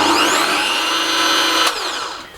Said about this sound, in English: So we then start the drill.